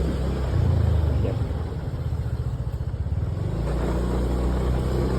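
A Yamaha motor scooter's small engine runs steadily during a ride in Thailand, a close, continuous low buzz with a rhythmic pulsing that rises briefly and then settles, heard alone.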